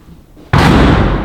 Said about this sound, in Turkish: kapı kendiliğinden kapandı arkadaşlar.